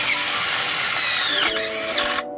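Power driver whining as it drives a tek screw into square metal bar slid into a greenhouse roll bar, one steady high-pitched run that bogs briefly near the end, then stops abruptly, close and loud.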